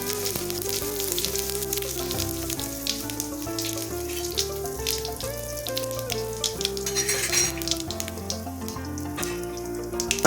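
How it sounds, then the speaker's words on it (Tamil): Mustard seeds, urad dal and cumin sizzle in hot groundnut oil for a potato stir-fry, a steady close frying hiss running beneath loud melodic music throughout. "எண்ணெய் காஞ்சிருச்சு கடுகு உளுந்தம்பருப்பு சீரகம் கொஞ்சம் தேங்காய்"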